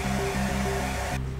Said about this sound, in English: to speed this up a little bit, I'm going to get my hair dryer